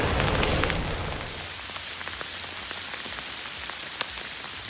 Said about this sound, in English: it's a good thing I like walking in the rain, and it's around 40 degrees, and I think I'm getting hail